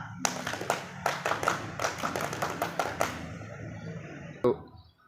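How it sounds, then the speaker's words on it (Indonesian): A Scout clap, tepuk pramuka, rings out as a patterned rhythmic sequence of sharp hand claps in quick groups, crisp and close, ending with one final accented clap. "Tepuk pramuka."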